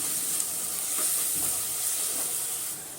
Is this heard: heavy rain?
no